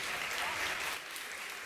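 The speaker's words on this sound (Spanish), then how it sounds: "No se puede aplaudir acá" Applause in the Argentine Senate chamber: a steady burst of many hands clapping, fairly distant and soft, briefly easing toward the end.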